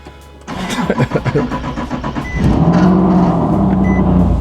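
A car engine cranks with a rapid rhythmic churn, then catches and settles into a loud, steady idle close by.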